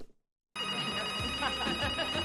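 A telephone rings in the horror movie Scream VI, starting abruptly after a brief silence with a loud, steady electronic ring that continues to the end.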